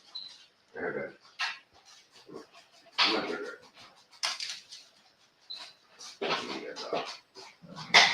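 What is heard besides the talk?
dog whimpering and barking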